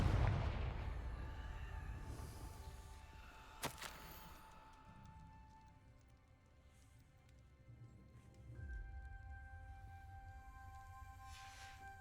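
A Confringo fire spell explodes in Hogwarts Legacy: one sharp, loud crack-boom near the four-second mark rises over a low rumbling game ambience and sustained tonal hum, followed by a quieter stretch and then a swelling droning tone.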